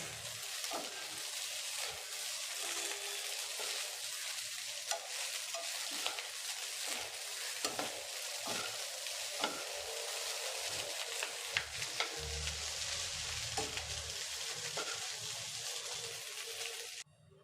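Egg rice being stirred in a frying pan, scraping spoon strokes over a soft sizzle, close and continuous.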